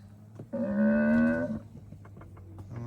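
A single deep, drawn-out moo from an ox, lasting about a second, with quieter background noise before and after.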